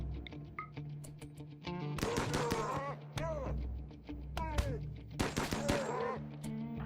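Bursts of AK rifle fire in the combat simulation game Rimworld, sharp repeated cracks in clusters over other game sounds, with someone talking in between.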